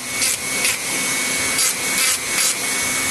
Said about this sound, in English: Gotta drop the Dremel. The quicker you do it like this, the more uniform it is.